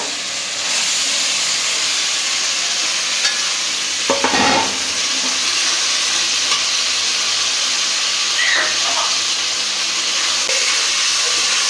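Meat hits a pan of fried ginger-garlic spice paste in a village Bengali kitchen, giving a steady, loud broadband sizzle with brief stirring clatters near the middle and toward the end, and no voices.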